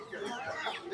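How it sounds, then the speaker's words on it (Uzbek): Roosters and young chickens cluck at an outdoor poultry market, the bird calls mixed into a busy crowd with people talking throughout. "Mana bu yoqda xo'roz tovuqchalar bor ekan"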